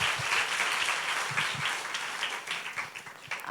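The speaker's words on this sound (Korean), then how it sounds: "박수로 맞아주세요." An audience at a school academic festival claps to welcome a teacher, a steady patter of many hands at moderate distance that thins slightly toward the end.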